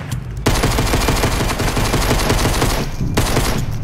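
Sustained automatic gunfire in the video game Fortnite, a loud, steady rapid stream of shots that cuts in abruptly and runs almost without a break, stopping briefly near the end before resuming.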